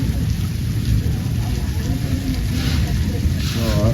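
Heavy rain roars steadily during a windstorm, a dense, constant wash of noise close by, with a voice faintly heard near the end.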